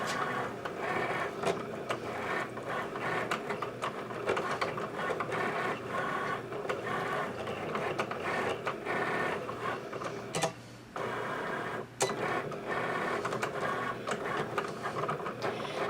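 A Cricut cutting machine cuts out a monogram with a steady mechanical whir and shuffling, rubbing carriage movement, broken by a couple of brief pauses, close and alone with no talk.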